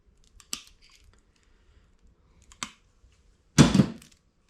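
Zip ties are snipped off a fuel pump rewire harness for an SRT4, giving three sharp isolated clicks and cuts spaced about two seconds apart, close and quiet, the last one a louder snapping crunch.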